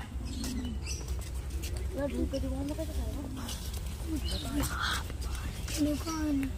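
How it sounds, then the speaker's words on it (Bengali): Pigeons of many different colours coo softly in short, wavering phrases, mixed with other birds and a constant low background rumble. "নানা রঙের পায়রা।"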